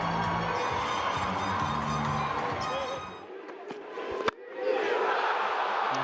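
A cricket crowd at an England versus West Indies match roars and cheers, loud and sustained, then briefly dips with a sharp knock before the cheering swells again.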